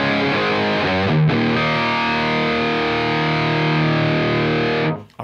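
An electric guitar played through a Mesa Boogie Triple Rectifier amp model in AmpliTube 5 rings out as loud, heavily distorted sustained chords. A brief re-strike comes early, then a long ringing hold is cut off near the end.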